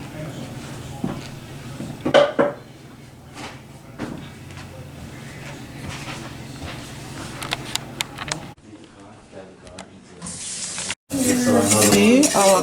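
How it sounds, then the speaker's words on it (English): Curry chicken sizzling and catching in a pan, a steady frying crackle with occasional clinks of utensils against cookware, rising to a louder, harsher sizzle near the end. "See, our curry is burning now."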